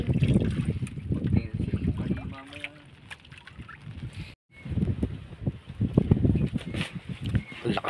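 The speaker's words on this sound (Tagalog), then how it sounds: "Ang lakas ng hangin." Strong wind buffets the microphone in loud, rough gusts, briefly dropping out before roaring back, with people talking underneath.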